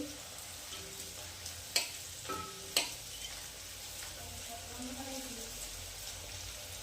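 Papdi dough pieces dropped into hot oil and deep-frying, a steady low sizzle with a few sharp clinks and bubbling bursts from the pan, no talking.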